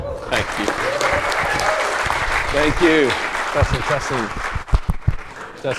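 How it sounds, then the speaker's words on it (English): Audience applause fills the room at a Birmingham AI tech meetup, steady clapping throughout with a voice speaking briefly over it near the end. "let's give a huge round of applause to the amazing two AI guys"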